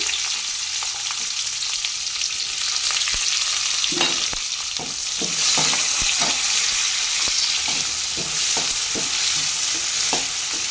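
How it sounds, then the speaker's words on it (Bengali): Onions fry in hot oil for a Bengali potoler kalia, a constant loud sizzle broken by a steady rhythm of spatula scrapes and taps against the pan. "এবার এই তেলে পেঁয়াজগুলোকে দিয়ে দিলাম।"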